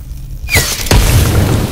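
A fiery explosion in the video game Dishonored 2 bursts with a deep boom, followed by a second heavy thud and a rumbling roar of burning. The effect is loud and close.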